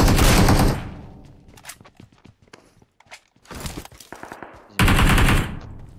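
Gunfire in PUBG Mobile: loud bursts of automatic fire open and close the passage, with scattered single shots and footstep-like clicks between them at lower level, no talk.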